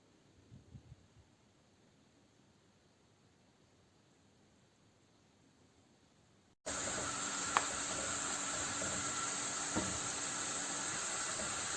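A large onion frying in about three quarters of a cup of oil in a kadhai gives a steady, loud, even sizzle that starts abruptly after several seconds of near-silence with faint rustling.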